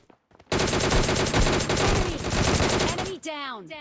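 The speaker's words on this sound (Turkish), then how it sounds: "O adam dönüp vurdu." Sustained automatic gunfire from PUBG Mobile Lite, a loud dense burst of rapid shots lasting about two and a half seconds and ending abruptly, followed by brief game sound effects.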